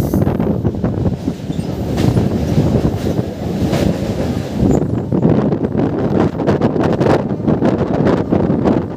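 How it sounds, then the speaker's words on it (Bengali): A passenger train on the single line between Digha and Nandakumar runs along the track with a continuous loud rumble, rattling wheel clatter and buffeting wind noise, heard from on board. "স্টেশন না ছাড়তে ছাড়তে দেখতে পাচ্ছেন ট্রেনও তার ট্র্যাক চেঞ্জ করে নিচ্ছে।"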